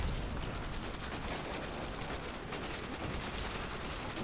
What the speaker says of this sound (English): Bullets into his head.